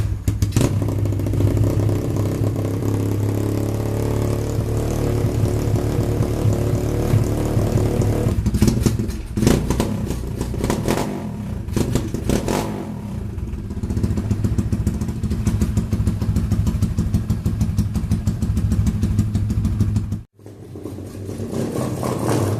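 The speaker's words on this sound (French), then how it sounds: "mettre un gros coup de kick pour que votre moto démarre." A 125cc YCF dirt bike engine with its exhaust baffle removed, kick-started, rumbles and revs steadily for a long stretch with mechanical clatter, then cuts out abruptly and briefly restarts near the end.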